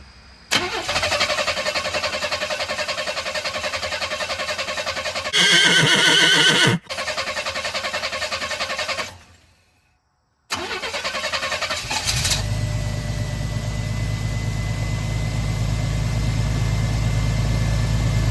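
A square-body truck engine cranks and fires after a carburetor swap, running loud and close, cutting out briefly, then restarting and settling into a steady, rumbling idle.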